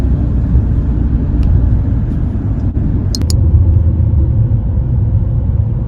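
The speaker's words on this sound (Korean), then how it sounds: "정차 중에도 거의 디젤차 수준 정도 소리가 나요" A Hyundai Sonata LPG idles with a steady, loud, low diesel-like rattling rumble, continuous and close, with a brief faint click partway through.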